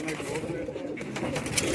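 High flyer pigeons in a large cage coo softly and repeatedly amid a busy, noisy background.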